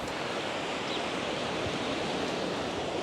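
Sea waves wash steadily onto the shore at Arrieta, Lanzarote, a continuous, fairly faint hiss of surf with no distinct breaks and no voices.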